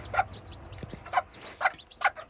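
Serama bantam hens and chicks in a breeding cage: soft repeated hen clucks in rhythmic bursts, with high thin chick peeps chirping between them, close and clear.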